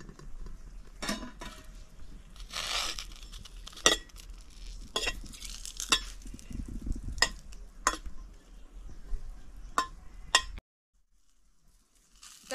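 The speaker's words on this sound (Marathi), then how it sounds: "थोडस तेल टाकून घेते म्हणजे मिरची चांगली भाजल" Green chillies frying in a little oil in a pan, a crackling sizzle broken by repeated sharp clicks and scrapes of stirring, then cutting to silence near the end.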